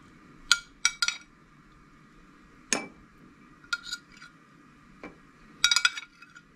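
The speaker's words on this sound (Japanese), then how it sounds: "煮物を小鉢に盛ります" A simmered side dish being served into a small bowl, with sparse, light clinks of chopsticks or a utensil against ceramic scattered across a quiet kitchen.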